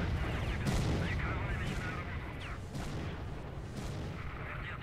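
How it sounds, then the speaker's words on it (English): Scattered gunfire bursts and booms echo at moderate distance in S.T.A.L.K.E.R. Shadow of Chernobyl, several sharp shots spread across the stretch over a steady rumbling background. "We are getting shot at on both sides."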